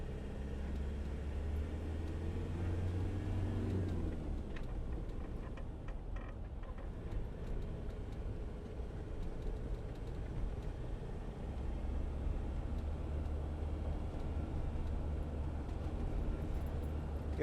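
A 2014 Land Rover Defender 90 2.2 TDCi hard top driving in fifth gear, a steady low engine and road rumble from inside the cab that dips briefly midway before settling back to a constant drone.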